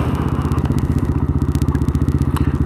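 A loud scooter passing close by in town traffic, its small engine putting out a rapid, rhythmic buzzing putter that stays strong across the whole moment, with no talking.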